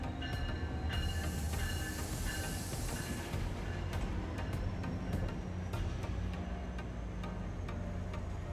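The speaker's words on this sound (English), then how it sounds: "a VRE commuter train pulls in to head south to Fredericksburg" A VRE commuter train rumbles steadily as it pulls into a station, with broadband rail noise, faint metallic ticks and a brief high squeal of brakes, no voices.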